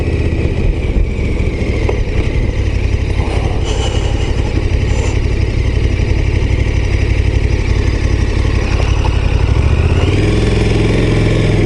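KTM 1290 Super Adventure S motorcycle engine held steady around 2000 rpm while riding, a loud continuous low rumble with wind noise, shifting slightly near the end as the rider works the clutch.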